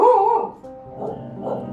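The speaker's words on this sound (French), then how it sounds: "Mon chien." A dog gives a short whining bark followed by two softer yips, close and fairly loud, in a brief burst with nothing else around it.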